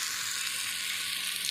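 Soybean chunks fry in a pan with an even, close, continuous sizzle that holds steady throughout.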